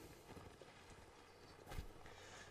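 Horse hooves clop on the ground in the Napoleonic Wars line-battle game Mount & Blade, a faint, steady patter with a brief louder thump near the end.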